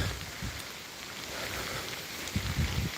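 Steady, hissing rain falls continuously with low rumbling gusts, a soft but dense wash of sound with no talking.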